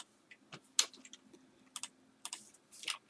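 Keystrokes on a computer keyboard while entering spreadsheet numbers, in short irregular bursts of light clicks with pauses between, fairly close and quiet with no talk.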